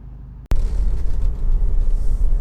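A 2.0 i-VTEC engine in a Honda CR-V EX automatic 4WD idles with a low, steady rumble close by, right after a sharp click. No voices are heard.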